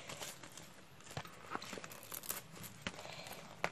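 Faint, close crinkling and tearing of thin plastic packaging as it is handled and pulled off a newly bought item, with irregular soft rustles and a few sharper crackles.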